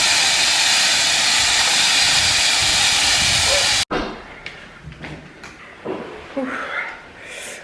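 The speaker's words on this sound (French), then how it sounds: "Il y a une grosse canalisation qui a apparemment pété. Ça fait un bruit énorme." Loud, steady roar of gas hissing from a large burst pipeline, a dense broadband rush that cuts off abruptly midway, followed by quieter outdoor ambience with scattered faint sounds.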